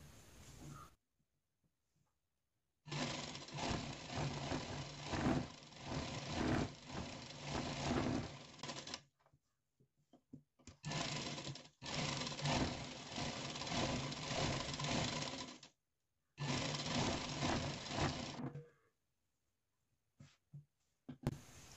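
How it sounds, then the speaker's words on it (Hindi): A sewing machine stitches the lining and fabric of a blouse in three long runs of rapid, even mechanical whirring, separated by short silences, close and clear with no talking. "अस्तर और कपड़े पर भी सिलाई लगा लेंगे"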